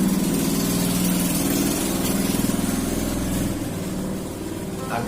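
A motorcycle engine runs steadily close by near a pesantren, a continuous low mechanical hum that holds level for about five seconds and eases slightly toward the end, with no talk over it.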